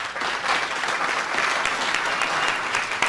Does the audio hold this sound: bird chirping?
no